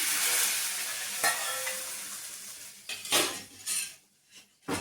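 Hot tempering hits the pot with a sharp sizzle, then a spoon scrapes and stirs, with a few clinks of metal near the end.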